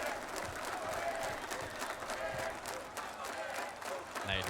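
Crowd at an esports match for the Rainbow Six RE:LO:AD Rio playoffs cheering and applauding throughout, a steady wash of clapping and shouts under commentary talk.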